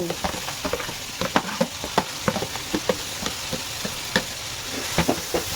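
Chopped tomatoes go into a hot frying pan with cooking ingredients, giving a steady sizzle broken by irregular scraping and clinking stirring strokes, fairly close and moderately loud.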